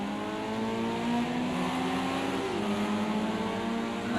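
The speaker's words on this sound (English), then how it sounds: "You can hear the cars roaring into life as they leave pit lane for the final time this evening." Sim racing cars in an eSports racing video game roar as they pull out of pit lane, a dense, steady engine drone with layered rising tones and no talk.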